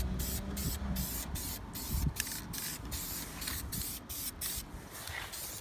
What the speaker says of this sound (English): We're gonna do it with a spray can today.